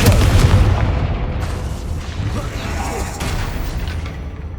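A Confringo fire spell blast in Hogwarts Legacy, a loud booming burst at the start that rolls into a dense, rumbling roar and fades slowly.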